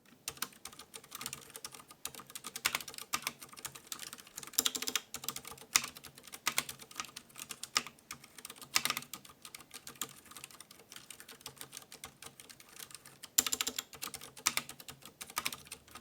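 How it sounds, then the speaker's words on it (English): Typing on a Ducky Shine 7 keyboard with Cherry MX Red switches, a continuous run of soft, close key clacks with irregular rhythm and occasional louder bottom-out hits, alone without talk. "here's just a quick sound test of my Ducky Shine 7 with the Cherry Mix Reds."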